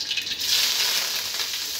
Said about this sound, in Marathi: मोहरी टाकल्यानंतर कांदा, हिरवी मिरची आणि कढीपत्ता एकदाच टाकते मी।